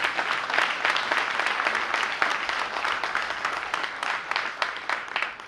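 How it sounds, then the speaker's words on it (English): Sustained applause from a gala audience at a Nigerian American Foundation evening, a steady dense wash of many hands clapping at even loudness throughout, with no voices over it. "I'd like to ask for another round of applause for Mr. Campion."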